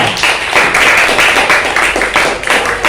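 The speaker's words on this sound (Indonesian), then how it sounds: "Tepuk tangan untuk pertanyaannya" Classroom audience clapping to praise a student's question, a steady dense patter of many hands that stays loud and even throughout without a break.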